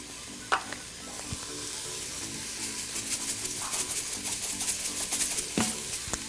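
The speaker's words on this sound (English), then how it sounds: "So you'll cook the vegetables for about 6 minutes or so." Vegetables sauté in an Instant Pot with salt and pepper, giving a steady sizzle broken by occasional clicks and scrapes of stirring, close and without talk.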